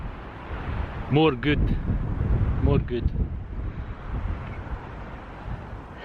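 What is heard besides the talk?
wind blowing on a hilltop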